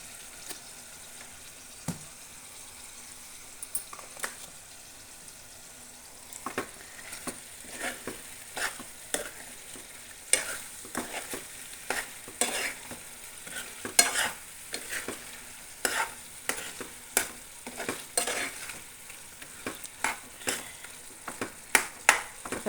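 Chicken pieces fry in a pan with salt for pepper chicken, a low continuous sizzle punctuated by frequent irregular clinks and scrapes of a stirring spoon, close and alone.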